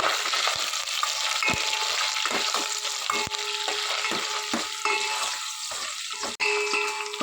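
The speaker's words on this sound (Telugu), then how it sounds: "గిన్నెలో ఆయిల్ పోసుకొని ఆనియన్స్, కరివేపాకు, ఎండుమిర్చి, అలాగే ధనియాలు, ఎల్లుల్లిపాయ కూడా వేసుకుని ఇవన్నీ బాగా ఫ్రై చేసుకోవాలి" Onions, curry leaves, dried red chillies, coriander seeds and garlic fry in oil for tamarind rasam, giving a steady close sizzle with occasional stirring scrapes and no talk.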